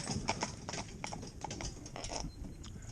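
Hooves of a cob in harness clip-clopping on a hard surface during an emergency stop, a quick run of close, distinct hoofbeats that stays moderately quiet throughout.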